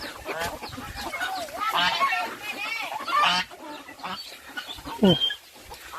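Village chickens cluck and squawk in bursts around a farmyard that also keeps ducks, mixed with people chatting nearby at moderate volume.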